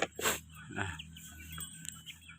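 Short clucking calls from chickens, a couple of bursts close by over a quiet farmyard background.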